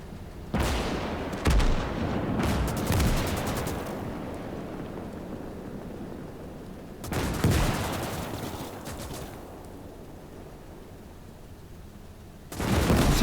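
Enemy gunfire in the WWII strategy game Gates of Hell, with sharp shots and short volleys cracking out in bursts near the start and again around the middle, then a final burst at the end, over a steady battlefield rumble.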